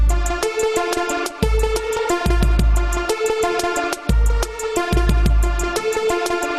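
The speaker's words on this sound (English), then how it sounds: "I created this little melody right here, which we call an arpeggio" A bright synth arpeggio loops in quick, even steps over pulsing bass notes, its tones smeared with shimmering chorus and trailing echoes.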